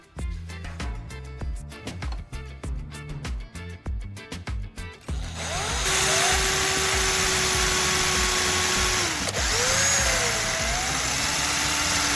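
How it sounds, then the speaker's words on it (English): An electric drill bores four marked holes, held straight for clean, even cuts; after a few seconds of music, a loud, steady whirring takes over, its pitch dipping and rising as the bit works through the material. "Drill the 4 marked holes, keeping the drill straight so each hole goes down clean and evenly."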